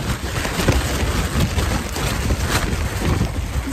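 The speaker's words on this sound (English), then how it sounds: "It's so windy and it's raining." Strong outdoor wind buffeting the microphone in a steady roar, with rain mixed into the dense broadband wash and no voices.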